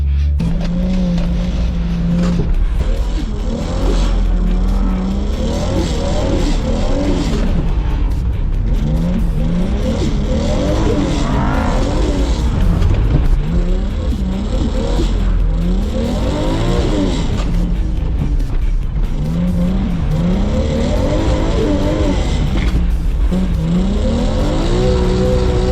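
A Datsun car skids on a club course, its engine revving loud and steady with shifting pitch throughout, tire noise blended into the continuous engine roar.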